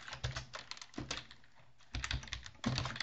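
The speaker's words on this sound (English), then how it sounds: "Go ahead and type string," Rapid keystrokes tapping on a computer keyboard while code is entered for a clock programming tutorial, clustered bursts with short pauses, close and crisp.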